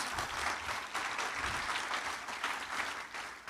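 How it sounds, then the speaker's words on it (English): Audience applause at a State of the City address, a continuous crowd of hands clapping with gentle swells, moderately loud and sustained throughout the few seconds. "Give her a round of applause."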